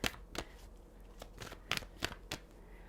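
Tarot cards are shuffled by hand, producing quiet crisp riffles and slaps in irregular bursts, close and faint with no voices.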